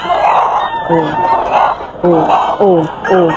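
A rooster at a busy Bocaue poultry market gives several short, harsh calls and clucks in quick bursts, close by, over a steady murmur of crowd noise and people talking.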